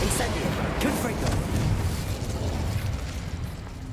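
Confringo blasting spell in the Hogwarts Legacy video game bursts with a rumbling explosion and crackling debris, loud at first and tapering over a few seconds.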